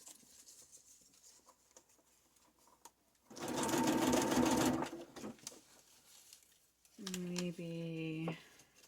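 Sewing machine stitching through snippets of paper roll, a loud rapid mechanical chatter in a burst of over a second, then a second run of clattering stitches with a whirring tone, separated by quiet handling noises.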